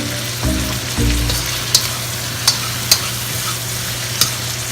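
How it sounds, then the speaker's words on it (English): Cubed onions sizzle and fry in a hot wok, with a steady broadband hiss and a few sharp clacks of a utensil stirring and scraping at irregular intervals. "Add your onions that are cubed. And we're going to start stirring."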